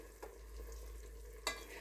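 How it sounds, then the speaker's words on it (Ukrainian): Soft sizzling of chicken fillet pieces frying in a pan, with a couple of sharp stirring or scraping clatters against the low steady hiss. "додаю куряче філе, порізане на шматочки. Зараз ще трішечки його підсмажу"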